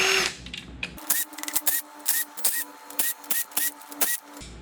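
A power tool, likely an impact gun, spins bolts out of the side of an LS engine block during a teardown, firing in short repeated bursts with pauses between, loud and close.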